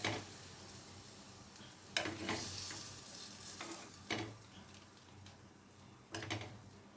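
Bitter gourd with onion stir-fries in a pan, a steady sizzle broken by a few sharp scraping stirs spaced a couple of seconds apart, close and fairly quiet, with no talking.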